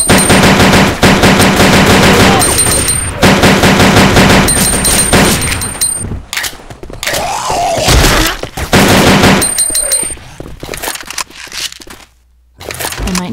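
Pistol gunfire in the Blood Hospital video game, loud rapid volleys of shots in several bursts separated by short quieter gaps, close and sharp.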